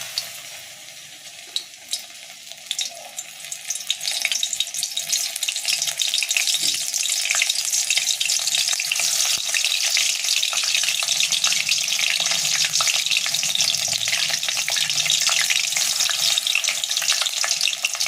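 Paneer pieces dropped one by one into hot oil in a wok for chilli paneer set off a loud, continuous sizzle that swells after a few quieter seconds and holds steady.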